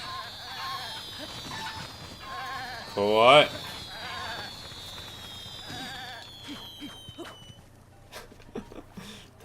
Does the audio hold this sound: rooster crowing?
no